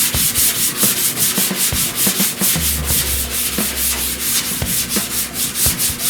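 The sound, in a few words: block sanding car body panel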